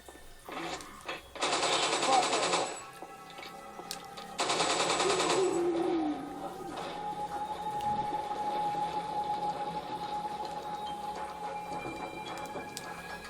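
Infinite-ammo weapon in a video game firing two sustained, loud bursts of rapid automatic gunfire, each lasting about a second and a half, followed by a lingering electronic hum and ambient game noise.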